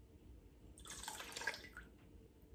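Christmas essential oil, about 20 ml, poured into candle wax at 57 °C, a faint short trickling pour of liquid lasting around a second, close and quiet with no talk.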